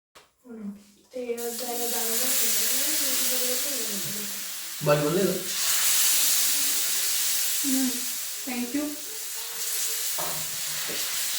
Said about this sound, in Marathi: पुन्हा मग आणखीन दुसऱ्या बाजूला आपण परतून घ्यायचं जेणेकरून ते क्रिस्पी होतं